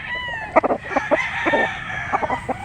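A street-breed Gilmore gamefowl rooster crows close and loud, a harmonic call that breaks into a quick run of short, choppy clucking bursts.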